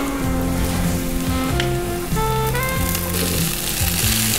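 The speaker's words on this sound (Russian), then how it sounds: "Сейчас будем добавлять фасоль в сковородку." Steady frying sizzle, a dense crackling hiss of beans in a hot frying pan, running continuously beneath louder background music with clear melodic notes.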